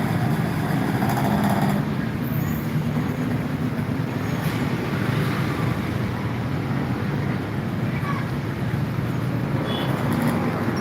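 Steady roadside traffic noise rumbles throughout as a truck passes by among other vehicles, a continuous broadband roar at moderate distance with no clear voices.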